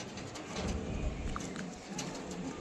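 A released pigeon coos softly at a loft among other birds, the low murmuring steady and fairly near throughout.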